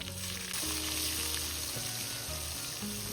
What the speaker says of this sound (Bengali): এদিকে পেঁয়াজটা ভাজা হতে থাকুক